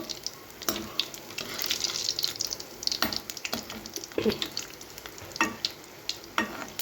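Bread slices fry in a pan for bread halwa and are turned, giving a crackling sizzle broken by sharp scraping clicks from the flipping, close and fairly loud.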